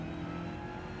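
A BMW race car engine in Gran Turismo 7 holds a steady, loud mid-pitched drone at constant revs for a single second, with no talk over it.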